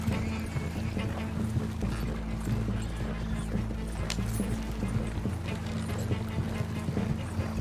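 In the video game Red Dead Redemption 2, horses run along with a soft, steady clip-clop of hooves. A low drone and a faint mechanical rumble sit underneath throughout, with no voices.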